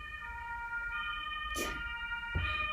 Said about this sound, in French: Sacrée sirène.